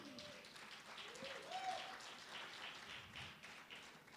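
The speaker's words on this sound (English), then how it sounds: "All those who are clapping," Faint, somewhat distant clapping from the audience at an IDAK annual general meeting, a soft continuous patter with voices heard underneath.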